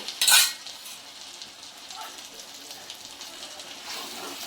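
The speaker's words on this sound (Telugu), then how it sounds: "పెరుగు వేసుకొని బాగా మిక్స్ చేసుకున్నాం" A spoon clanks and scrapes as yogurt is stirred into chicken handi masala in a pan, starting with a sharp metallic clatter followed by softer repeated scraping and faint sizzling.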